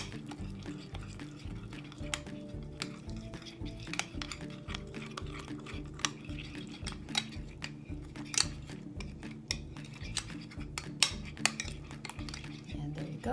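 Icing mixed in a bowl with a utensil, a steady close scraping and clinking rhythm with a low background hum, no voices.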